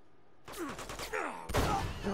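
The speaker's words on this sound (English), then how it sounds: "He shot me with something so fierce, so vicious." Bursts of gunfire from the video game Uncharted 2, in a monastery level: sudden loud volleys of shots and thuds break in after a short silence, then a heavier burst near the end.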